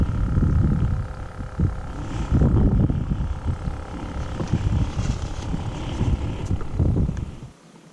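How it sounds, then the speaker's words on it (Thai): Gusty wind buffets a microphone outdoors on a fishing trip, making loud, low rumbling bursts that rise and fall before cutting off abruptly near the end. "ลมพัดว่ะ"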